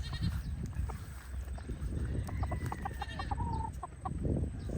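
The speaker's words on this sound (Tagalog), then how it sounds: "alaga nating kambing dito" Several goats bleat in short, wavering calls at close to moderate distance, overlapping against a low outdoor rumble.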